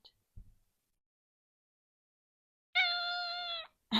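A house cat lets out one clear, drawn-out meow, near and fairly loud, after a stretch of quiet in an indoor setting.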